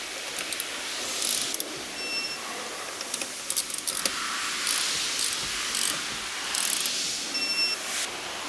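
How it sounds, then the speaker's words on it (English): A car's wheel lug nuts are torqued down with the tire resting on the ground, giving repeated metallic clicking and ratcheting bursts over a hissy background, close and moderately loud, with brief pauses between the clicks. "to go ahead and torque down your wheels"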